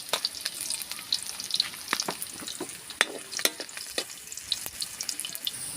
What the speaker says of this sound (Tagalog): Pagkatapos natin tanggalan ng tinik, magigisa na tayo. Sabay natin yung bawang at saka luya.